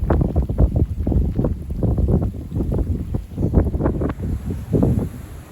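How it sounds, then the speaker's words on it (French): Strong wind gusts around 70 km/h during a December storm, buffeting the microphone with continuous low roaring rumble that surges and eases in waves, loud and close. "Encore des belles rafales à 70 km/h."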